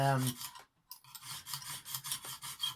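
A Boker clip-point pocketknife blade is drawn across a Lansky diamond sharpening stone, giving repeated close rasping strokes in a steady rhythm after a brief pause.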